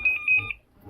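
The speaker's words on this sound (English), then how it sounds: "That's my alarm to know that there is the weather forecast" An electronic alarm on a sailboat gives two quick, close, clear beeps, then falls silent.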